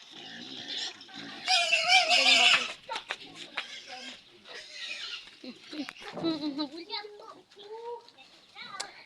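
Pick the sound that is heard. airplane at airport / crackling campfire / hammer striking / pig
pig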